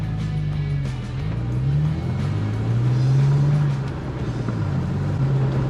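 Toyota FJ Cruiser engine crawling off-road in low-range second gear, a steady low drone that rises and falls gently with throttle, close and continuous with no talk.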